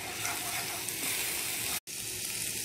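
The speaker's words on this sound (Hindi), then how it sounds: "ऑयल में हम डाल देते हैं ये अपना थोड़ा लहसुन और अदरक का पेस्ट" Garlic and ginger paste frying in hot oil for a keema paratha filling: a steady, close sizzle and crackle with a very brief cut near the end and no voices.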